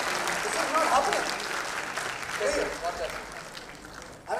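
Audience applause on the red carpet at the Dada Saheb Phalke Academy Awards, a steady wash of clapping from a crowd with voices mixed in throughout.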